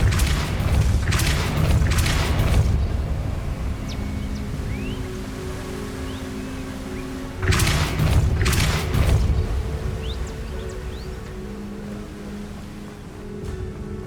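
Two heavy booming blasts from a Repulsor spell in Hogwarts Legacy, each a cluster of loud thumps followed by a fading rumble, with game ambience filling the gaps.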